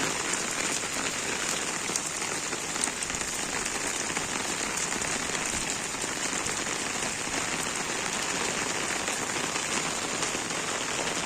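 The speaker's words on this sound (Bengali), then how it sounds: "বৃষ্টি পড়ছে" Heavy rain pours steadily onto trees and standing water-filled drums outdoors, a dense, constant hiss of drops at even loudness throughout with no voices.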